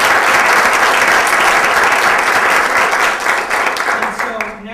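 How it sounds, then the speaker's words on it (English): A crowd applauds at the Green Communities Awards Ceremony, loud, dense clapping that holds steady before thinning and fading out near the end. "Big round of applause to all."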